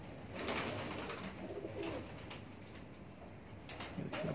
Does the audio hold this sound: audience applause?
no